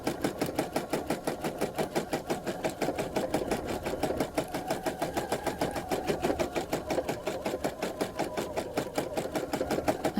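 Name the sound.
sewing machine free motion quilting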